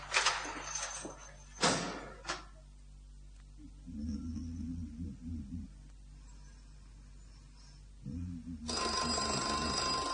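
A telephone rings in a radio drama, with a few sharp bursts, some shuffling and door-like noises, then a low murmur of background voices before a bright tone returns near the end.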